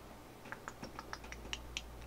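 Number keys on a computer keyboard are pressed to set the volume, giving about eight light, quick clicks in an uneven rhythm over quiet background hum.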